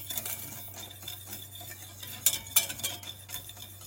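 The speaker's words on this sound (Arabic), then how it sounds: "سكر سنيده مع مايزينا، وغادي نخلطوها مزيان حتى تجي سمينه" Sugar and cornstarch whisked together in a bowl: a steady, close scraping and stirring with a couple of sharp clinks of the whisk against the bowl, alone without talk.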